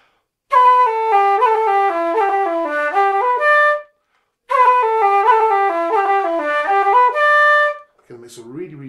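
Irish flute playing a jig ornamented with short rolls, two bouncy running phrases of clear breathy notes separated by a pause, close and solo, with a faint voice starting at the very end.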